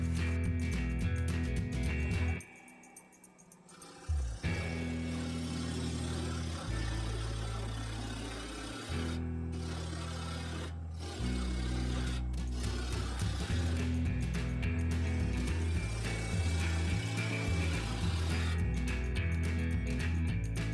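A wood lathe spins a natural-edge maple bowl blank at 1000 RPM, a steady mechanical hum and rumble that runs throughout with brief dips, most likely as a 3/8 inch bowl gouge takes fine cuts.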